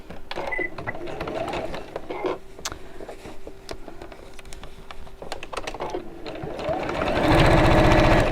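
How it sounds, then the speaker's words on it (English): Sewing machine stitching a simple fabric bag, a fast rattling run of needle strokes close up with short pauses, building to a louder continuous burst at the end, no speech over it. "And sew it again."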